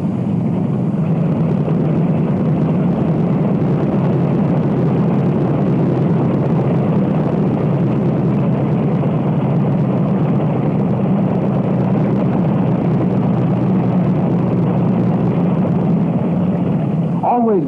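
Radial engines of a 1943 Martin PBM Mariner flying boat drone steadily while the aircraft taxis on water, a loud continuous low rumble with no break throughout.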